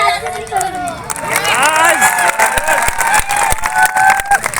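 A crowd at an outdoor speech gathering for World Indigenous Day in Dungarpur applauds a speaker, with clapping and cheering under a loud voice talking.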